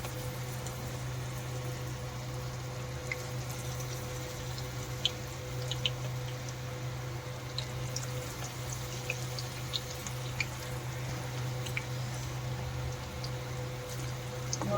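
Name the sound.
chicken pakora batter dropped into hot oil, frying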